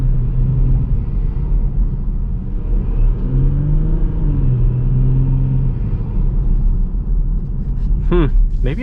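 Jeep Grand Cherokee WK2 EcoDiesel fitted with a K&N charge pipe, giving a steady, close diesel rumble and whir throughout, with a voice talking over it.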